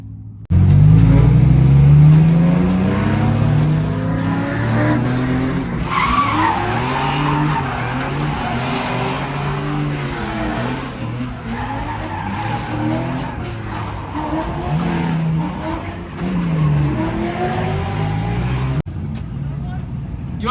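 Cars street drifting in tandem, among them an E36 M3, Corvettes, an F82 M4, a BRZ/FRS, a 350z and an A90 Supra, with loud engines revving and tires squealing in long sweeping slides, close and continuous, alongside shouted voices.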